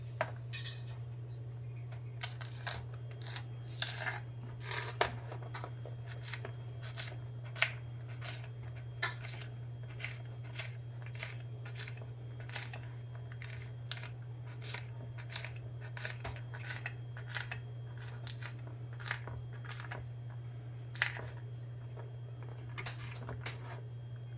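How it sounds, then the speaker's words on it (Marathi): Vegetables for a Marathi-style pathadi bhaji being cut into small pieces, a steady series of faint clicking chops and taps against a board over a constant low electrical hum, no talking. "अशी सर्व भाजी काढून घ्यायची तुकडे करून घ्यायचे"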